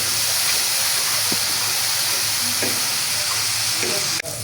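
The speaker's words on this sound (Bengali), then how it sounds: "আমার মশলা ভাজা হয়ে গেছে গিয়ে" Spice paste for a rohu fish dish sizzles and spits in hot oil, a close continuous fry with a few soft stirring knocks, then a sudden sharp crackle near the end.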